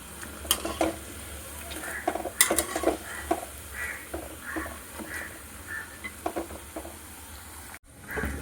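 Steady oil sizzle as vada fry, with soft crackles and occasional clinks of a utensil against a pan, continuous and close, no voices.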